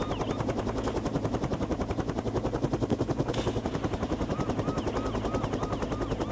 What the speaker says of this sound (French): moi je suis un hélicoptère et puis eux ils sont en voiture